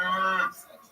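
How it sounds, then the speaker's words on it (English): A single cow moos once, loud and close, in a short, tonal low call that ends abruptly. "There's a fucking cow in there, too."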